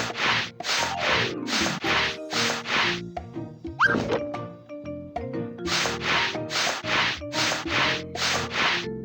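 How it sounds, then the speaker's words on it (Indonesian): Sandpaper rubs rough wood in quick rhythmic bursts of scratchy strokes, loud and close. A short squeaky interlude in the middle breaks the rhythm before the steady back-and-forth sanding resumes. "Gunakan amplas untuk menghaluskan kayu yang kasar."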